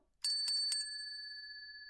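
A bicycle-style bell rings three quick times, bright and close, then its clear metallic tone hangs and slowly fades in otherwise quiet surroundings.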